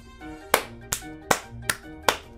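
Five slow, separate hand claps ring out at an unhurried, roughly even pace, close and crisp against a quiet background.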